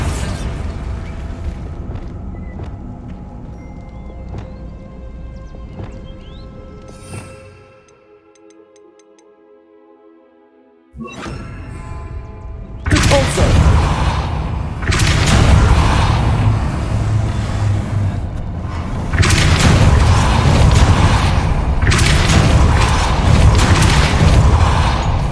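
Spell explosions from Confringo and Bombarda in Hogwarts Legacy, with a mechanical rumble that drops away, then a sudden roar into loud, heavy booming blasts that swell and sustain, close and powerful.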